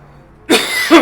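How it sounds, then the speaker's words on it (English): Two harsh, loud coughs close by, the second following quickly after the first, after a moment of near silence. "Sorry for the cough"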